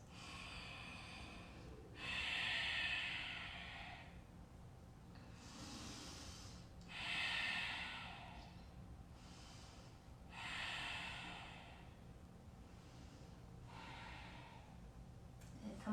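Slow, audible exhaling breaths during a vinyasa yoga flow, several long airy breaths drawn out one after another at a calm rhythm, close and fairly soft, with no talking.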